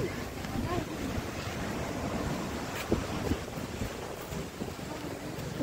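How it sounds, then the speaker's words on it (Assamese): Steady wind and surf at the beach in Puri, a broad continuous roar of sea waves with gusty buffeting on the microphone and a few louder swells, with no voices. "এইফালে হৈছে সাগৰ"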